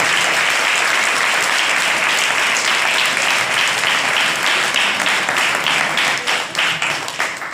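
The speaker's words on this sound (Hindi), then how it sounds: "हम सब ताली बजाकर प्रभु के दास का स्वागत करते हैं" An audience at a church gathering claps to welcome a pastor: dense, sustained applause filling the room, steady for several seconds before thinning and tapering off near the end.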